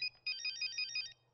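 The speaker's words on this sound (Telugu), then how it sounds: "ప్రియా నీ మొబైల్" A mobile phone rings with a bright electronic ringtone, a quick run of repeated warbling beeps lasting about a second before it cuts off, close and clear with no talking.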